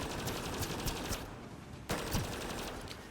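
Rapid automatic gunfire in the video game Mass Effect Andromeda, dense rattling bursts that pause briefly and then resume, loud and continuous throughout.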